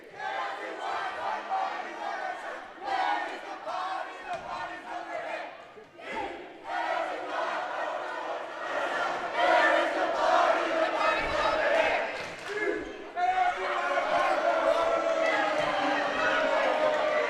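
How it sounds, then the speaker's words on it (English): Bruins fans in a high school girls' volleyball gymnasium chant and cheer loudly in rhythmic bursts, with shouting crowd voices rising and falling under brief pauses and echoing through the hall. "That is most definitely be the most popular cheer you've heard at a Cherry Creek event this year."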